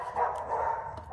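Neighborhood dogs bark at the arriving mailman, a few muffled, distant woofs and yips heard faintly outdoors.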